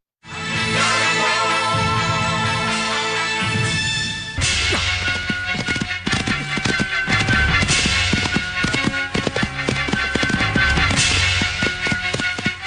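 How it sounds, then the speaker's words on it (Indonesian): Horses' hooves clip-clop in a brisk, uneven clatter that grows busier and louder after a few seconds, mixed with a dense layer of other sound and no talk. "Itu kuda mereka."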